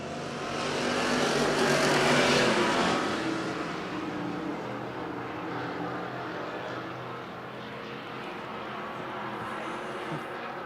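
A field of IMCA stock cars roars away at the green flag on a dirt oval, engines rising to a loud, dense wall of revving that swells and then holds steady as the pack moves off.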